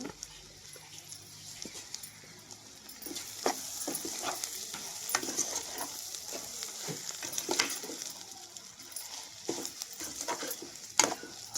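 Ivy gourd frying with coriander powder in a pan, a continuous soft sizzle that grows busier partway through, broken by repeated scraping stirs of a spoon.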